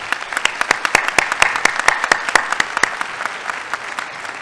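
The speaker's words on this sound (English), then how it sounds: "Let's give a round of applause." Lecture-hall audience applause at an academic lecture, a moderate crowd clapping with distinct, sharp individual claps standing out over a steady patter, sustained throughout without speech.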